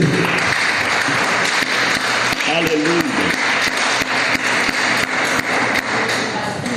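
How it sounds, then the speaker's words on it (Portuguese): A church congregation applauds loudly and continuously, with a voice speaking over the clapping and some heavier thumps mixed in. "Vamos aplaudir o Senhor por isso, amém?"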